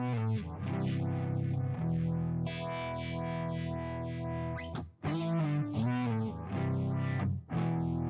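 An electric guitar through a Spark amp with a Univibe-type modulation effect gives a thick, throbbing, sweeping chorded tone that pulses in regular waves, loud and close, with a brief break midway and no talking.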